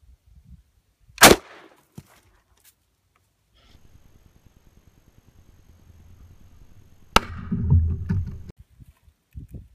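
A Barnes Varmint Grenade .223 round fired into an apple, two sharp loud cracks several seconds apart, the second followed by a rumbling outdoor echo, with quiet gaps between.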